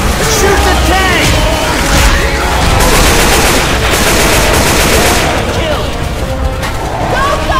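Gunfire in Left 4 Dead 2 rattles against a Tank in the Dead Center mall. Rapid loud bursts of automatic and shotgun fire overlap continuously, with shouting voices mixed in.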